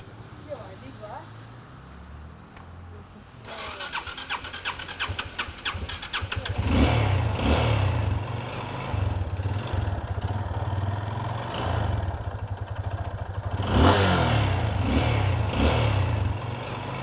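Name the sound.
motorcycle engine starting and revving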